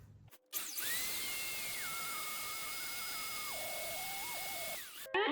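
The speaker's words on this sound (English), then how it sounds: "we'll go ahead and bring it over to the bandsaw, cut that out" A bandsaw cutting a tang slot in a Damascus steel dagger produces a thin, high-pitched whine that starts abruptly, holds for several seconds, then drops in pitch in steps before stopping.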